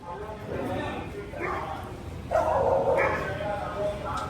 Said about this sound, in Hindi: ये देखो अंदर बैठ के तो भौंक रही है